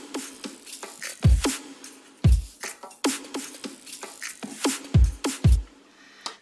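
Electronic break percussion with deep kick hits and a snare carrying a fake delay, sounding in an uneven, syncopated pattern of punchy strikes with short bright hits between them, up close and with no voices.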